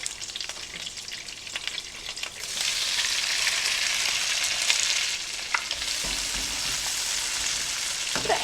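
Onions go into a hot pan with butter and sizzle, a steady frying hiss that jumps louder a couple of seconds in and stays strong, close up with light stirring.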